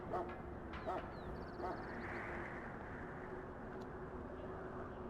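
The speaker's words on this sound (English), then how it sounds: "Do I hear dogs bark?" Three short dog barks from the king's kennels in Dragon Age: Origins come from a distance, spaced about a second apart, over a dense low rumble of background ambience.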